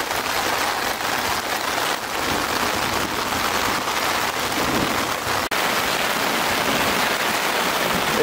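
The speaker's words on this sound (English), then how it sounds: "It's hailing." Hail and rain pound steadily on a tarp during a storm, a dense, loud, continuous drumming roar that barely changes for the whole stretch, with no voices.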